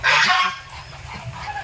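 Geese at a duck farm let out a loud, close honk followed by a few fainter calls and rustling in the pen.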